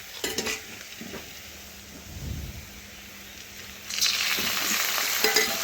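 Ginger, cumin, green chili and garlic paste sizzles with fried onions in a pan, a steady hiss with scraping stirs and metal clinks, growing louder toward the end.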